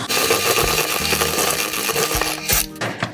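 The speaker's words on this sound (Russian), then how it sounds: "Также добавляю остальную сахарную пудру. И еще немножко взбиваю." An electric mixer whips cream with powdered sugar in a bowl, giving a close, steady whirring hum with faint clinks and scrapes. It falters near the end, with no talking.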